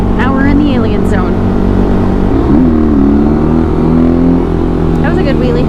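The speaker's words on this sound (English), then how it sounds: "That was a good wheelie." Dual-sport motorcycle engine, a WR250R or CB300F, revs hard during a wheelie on a country road, loud and close, with the pitch dropping and climbing again as the throttle is worked, and a voice is heard briefly.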